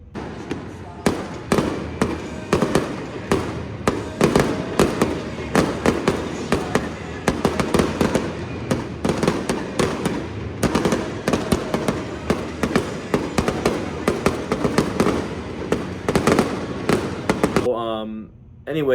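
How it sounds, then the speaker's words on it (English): Post-game fireworks after a baseball game pop and crackle in a rapid, irregular barrage of sharp bursts, loud and fairly near, with crowd voices mixed underneath. "but here are the post-game fireworks."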